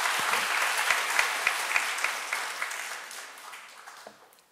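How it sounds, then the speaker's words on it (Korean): A church congregation claps during a Korean sermon. A few loud, evenly spaced rhythmic claps ring out over the crowd's clapping, and the applause then fades gradually toward quiet. "이때도 박수 한번 쳐야 됩니다"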